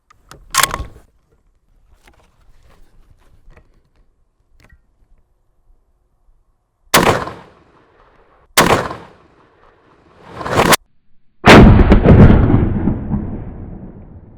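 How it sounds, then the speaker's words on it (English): Shots from a rifle firing 30-06 black tip armor-piercing rounds at level 4 ceramic body armor outdoors: several sharp, loud cracks spaced seconds apart, the last one followed by a longer rumbling roar, with no talking. "on our level 4, 1 round of 30-06 black tip armor piercing"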